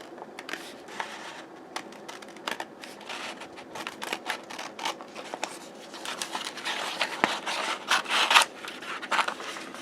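Scissors snipping through a paper bodice pattern at close range, a run of quick, irregular crisp cuts and rustles that grow busier toward the end.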